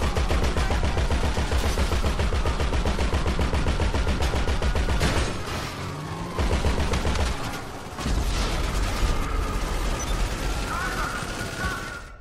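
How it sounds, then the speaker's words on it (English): Sustained, rapid minigun fire in GTA V rattles loudly and almost without pause, briefly dipping in the middle and near the end before resuming. "Oh, the guy had a minigun."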